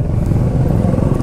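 A modified Interceptor motorcycle rumbles close by on a ride from Bangalore toward Bandipur, a loud steady low engine drone with a slight pulsing beat and no voice over it.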